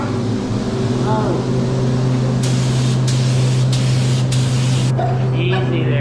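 Spray gun painting a Honda CRX, several bursts of hissing spray a second or so apart over a steady loud hum of a compressor or fan nearby, with people talking.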